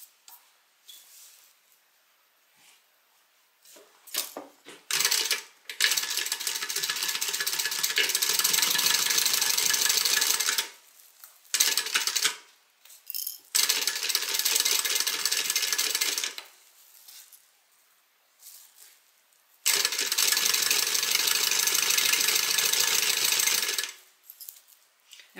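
A sewing machine stitches the upper lining of a vinyl bag in several long, loud bursts of rapid whirring, separated by short pauses and brief bumps as the fabric is repositioned.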